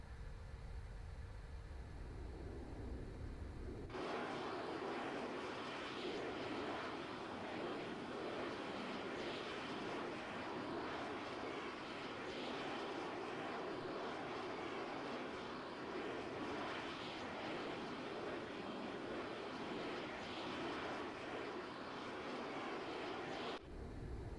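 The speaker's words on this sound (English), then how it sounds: "So let's attempt to do a VTOL takeoff." Valkyrie VTOL aircraft in ArmA 3 with the Warhammer 40K mod lifts off. After a few quiet seconds its engines surge into a loud, steady roar that holds to the end, with no talk.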